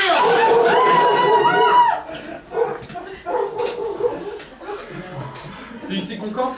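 Improv performers on stage imitating dogs, a voice giving excited barking and yelping sounds at first, followed by quieter mixed vocal noises and laughter from the room.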